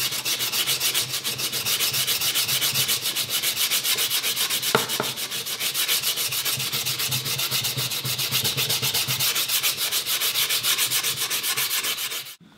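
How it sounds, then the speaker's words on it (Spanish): Sandpaper rubs steadily over a wooden sieve frame during restoration work, a continuous close scratchy rasp with no breaks and no voices. "Vamos a dejarlo todo perfectamente terminado con lijas."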